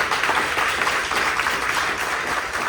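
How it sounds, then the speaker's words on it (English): A luncheon crowd at a Governor's Club gathering gives a round of applause for the arts organization COCA, a steady, dense wash of many hands clapping, loud and unbroken, with no voice over it. "So if you'll join me in giving a round of applause for COCA for being the leader"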